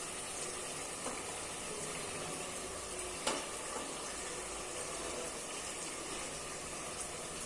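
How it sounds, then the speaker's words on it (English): Chicken curry fries in a pot with a steady, soft sizzle and one brief splash as chopped tomatoes go in, fairly quiet with no talk. "Now I am adding tomatoes"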